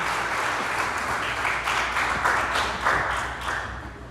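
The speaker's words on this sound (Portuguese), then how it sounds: "Dá um forte aplauso ao Senhor nessa noite." A church congregation applauds steadily during a worship service, a dense, sustained wash of many hands clapping that carries on at an even level throughout.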